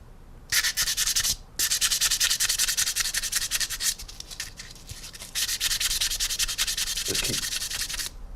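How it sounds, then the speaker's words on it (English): Sandpaper rubbing paint off the edges of a model military aircraft, heard as close, loud bursts of scratchy sanding in several long runs separated by brief pauses. "So what you can do is just sand over this paint along the edges and stuff"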